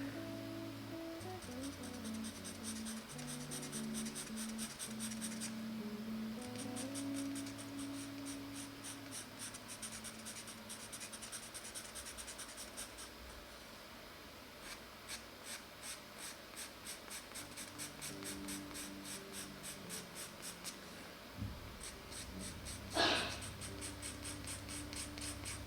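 A Pitt pastel pencil drags across paper in steady, close scratchy strokes for a long stretch, quiet and unbroken, with no one talking.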